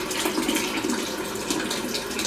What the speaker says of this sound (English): get a bit of water, a bit more hot water